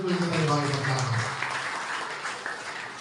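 Audience at a Hindu temple community gathering breaks into applause, clapping rising under a voice that fades out early, then scattered hands continuing at moderate volume.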